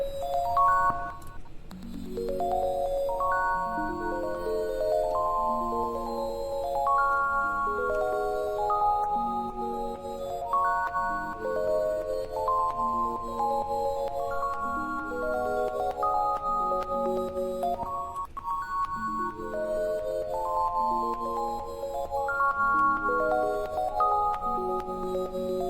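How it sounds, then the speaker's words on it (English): A soft synth pluck built from a sine wave plays a repeating MIDI pattern for a K-pop instrumental remake, bright rippling notes and chords cycling in a steady, even rhythm at moderate level with no voices. "this is how I made this very beautiful pluck"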